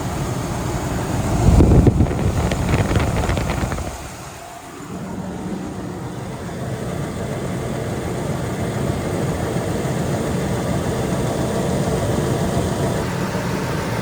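A Ford F150 pickup engine idles steadily after a water pump repair, a low continuous rumble with a brief louder swell and dip early on, then an even drone with some wind noise.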